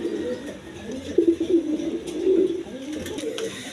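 Pigeons of fancy breeds kept for sale coo in low, rolling, repeated throaty phrases, close and steady, with a few faint chirps and clatter behind and no talk.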